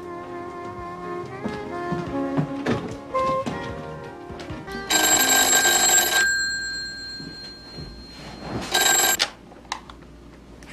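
An electric telephone bell in a Greek film rings in two loud, bright bursts, a long ring followed by a shorter one, rising over music that plays beforehand.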